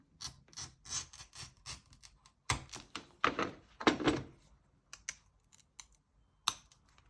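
Scissors snip out a paper pattern piece for stained glass in a run of short, crisp cuts. Irregular bursts sound close, with brief pauses between them and a few louder, longer rasping strokes.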